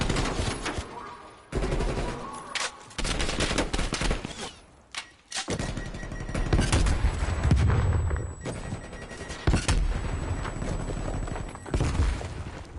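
Gunfire from a Call of Duty League match fight, with repeated bursts and booming shots that stop and start across the stretch, loud and close, alternating with short quieter gaps.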